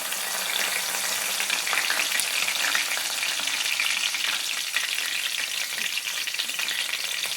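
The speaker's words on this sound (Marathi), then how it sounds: "जिरे छान असे तेलावरती आले की आपण त्यामध्ये आता कढीपत्त्याची फोडणी देऊया." Curry leaves sizzling and crackling in hot oil with cumin seeds, a steady loud frying hiss with scattered pops, tempering for peas khichdi, heard alone without speech.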